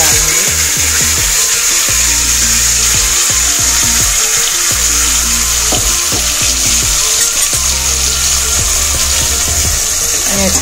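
Ground masala with cumin fries in a pan, a loud steady sizzle with scattered pops and clicks from stirring.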